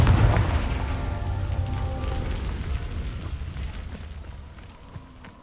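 In Hogwarts Legacy, Incendio and Confringo fire spells go off with a heavy booming blast followed by a rumbling, crackling decay that fades over a few seconds.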